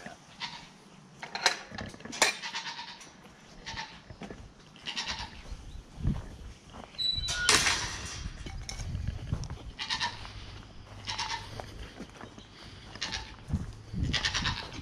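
Baby goats on a farm goat cam bleat repeatedly, with several short, high cries scattered across the scene over soft shuffling and background noise, fairly close and with no speech.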